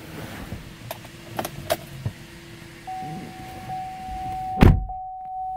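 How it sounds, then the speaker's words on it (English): Power moonroof on a 2015 GMC Terrain opening overhead, a steady electric motor whine that runs for a few seconds after some clicks and a soft thump, then stops with a clunk. "power moonroof overhead"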